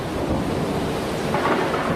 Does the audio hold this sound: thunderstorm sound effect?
yes